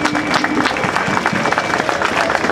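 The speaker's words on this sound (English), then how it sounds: "let's all have a round of applause for those that planned this day" A crowd at a March for Science gathering in Syracuse applauds the day's organizers, a continuous wash of clapping heard from a distance with faint crowd noise.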